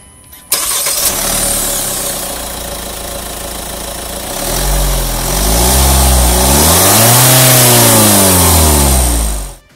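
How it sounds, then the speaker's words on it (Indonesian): A Hyundai Staria's 2.2 CRDi turbo diesel fires up with a sharp start, settles into a clattering idle, then revs up and down in several loud swells before cutting off near the end. "kita sekarang pengen coba startup dulu untuk denger mesin diesel yang menjadi salah satu daya jual terbesar dari si Staria"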